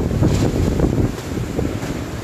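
Strong wind from Typhoon Rolly (Super Typhoon Goni) roars through the center of Naga City, a continuous loud gusting rush that buffets the microphone without pause.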